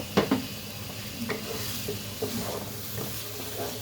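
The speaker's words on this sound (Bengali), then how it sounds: "তো এটাকে আমি ভালোভাবে একটু নেড়ে চেড়ে নিই, ভালোভাবে কষিয়ে নিব।" Chicken korma masala with red chilli fries in a pan under a steady sizzle while a spoon stirs and scrapes it in irregular close strokes, with no one talking.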